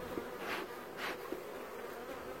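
Honey bees buzz around hives during a July honey harvest, a close, steady hum with a few louder passes as individual bees fly near.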